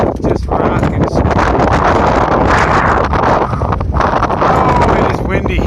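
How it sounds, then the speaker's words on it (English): Strong wind roars across a rocky, snowy mountain summit on Moosilauke along the Appalachian Trail, loud, constant buffeting against the microphone with gusts rising and falling, and a hiker's voice briefly mixed in. "Oh, it is windy."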